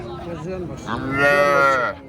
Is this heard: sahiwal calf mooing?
yes